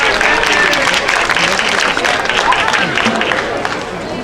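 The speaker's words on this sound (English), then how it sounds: "Give him a round of applause." Loud, steady applause from a festival crowd at a raffle in Japantown, San Francisco, continuous throughout with a hubbub of voices mixed in.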